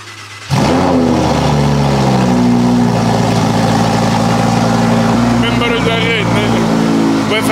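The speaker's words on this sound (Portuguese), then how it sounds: "Liga lá isso, Arumeiro. Tenho saudades de ouvir um V10." Ferrari V10 engine firing up with a sudden loud start, then running and revving nearby in a rising and falling roar, with voices talking over it.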